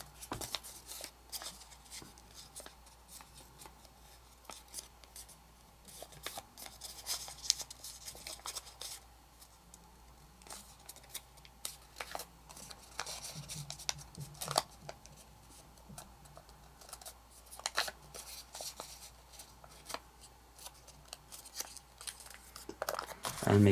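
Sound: origami paper being folded and unfolded

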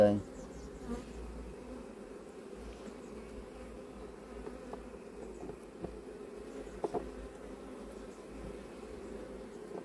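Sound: honeybees buzzing around hive

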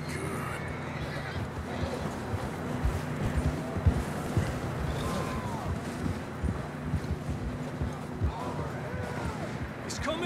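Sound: horses running, hooves clip-clopping, Red Dead Redemption 2 video game

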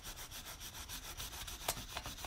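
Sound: colored pencils rubbed over a textured surface

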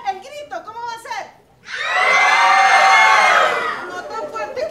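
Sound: children shouting 'fire'

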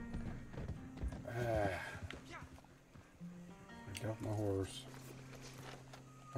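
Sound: horse hooves clip-clopping, from Red Dead Online video game

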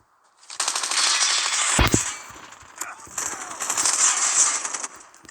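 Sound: machine gun fire in Call of Duty video game

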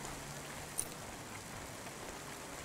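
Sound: rain in the video game Cloudpunk

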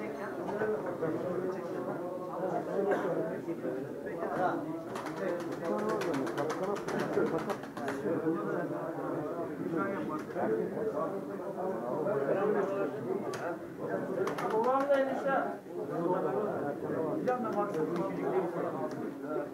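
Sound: pigeons cooing

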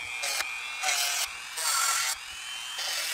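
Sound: Dremel rotary tool with sanding end at low speed

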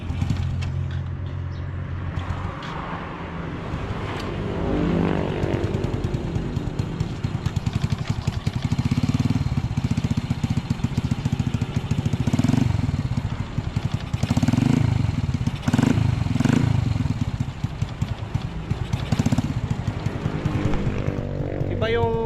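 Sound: rough, noisy motorcycle engine running

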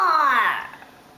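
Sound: child imitating a lion's roar

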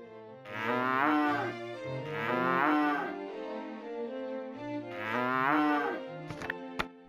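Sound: cow mooing

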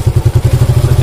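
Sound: motorcycle engine revving at changing RPM

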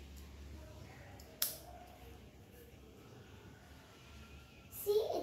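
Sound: scissors cutting yarn to make a tassel

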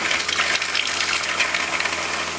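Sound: water running from RV kitchen sink hot tap

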